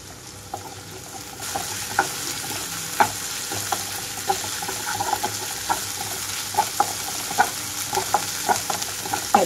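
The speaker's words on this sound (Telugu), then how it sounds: "ఇప్పుడు మీడియం ఫ్లేమ్లోకి టర్న్ చేసుకున్న తర్వాత స్టవ్ని ఇందులోకి అల్లం వెల్లుల్లి పేస్ట్ కూడా వేసేసుకుంటున్నాను" Ginger garlic paste fries with onions in a pan over a medium flame for a ridge gourd and black-eyed pea curry, a close, steady sizzle punctuated by regular clinks and scrapes of a spoon stirring.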